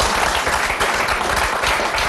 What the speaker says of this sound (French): Applaudissements polis plus que nourris